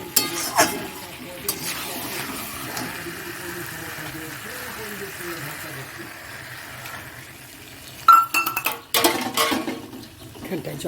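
Chicken frying in a pan gives a steady sizzle, then water is poured in, producing a loud burst of hissing and bubbling with clattering pan sounds, with someone talking over it.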